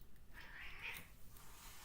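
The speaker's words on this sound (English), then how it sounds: "There's 3 cats behind me," Three cats complaining indoors, letting out a faint, drawn-out meow that rises and falls over a second or so against a quiet room hum.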